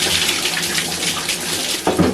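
Water drains from a shower after a dose of drain cleaner, a steady rushing, gurgling flow that runs continuously and close by, with a brief splashy bump near the end.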